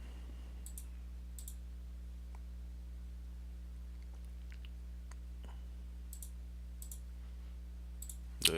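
Faint, scattered clicks of computer keyboard keys being pressed, a few isolated taps over a quiet electrical hum, with a louder click at the very end.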